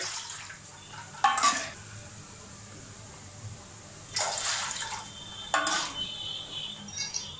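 Water for Bombay rava vadiyalu made with upma rava is poured into a pot in three separate short splashing bursts, each a few seconds apart, against a quiet kitchen background.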